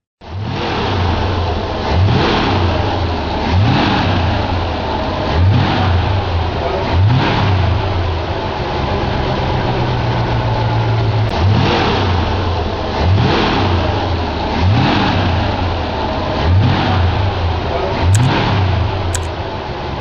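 A 1956 Lincoln Premier V8 revving repeatedly, roughly a dozen rising blips of throttle over a steady idling rumble, close and loud with no other sounds.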